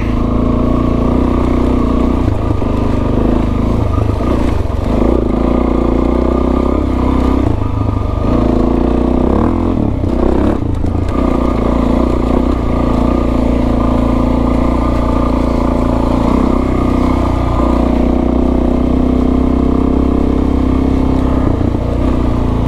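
A modified Suzuki DRZ400S dual-sport motorcycle on an off-road ride, its engine droning steadily and loud close to the mic throughout, with some clattering and brief surges in revs and no talking.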